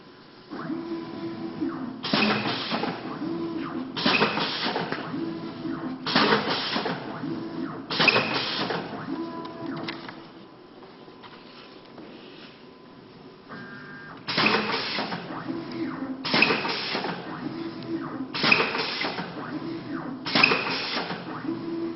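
A Lake View Sales short run box maker machine runs in repeated cycles of loud mechanical clattering and whirring, about eight even bursts with a quieter pause midway, close and alone.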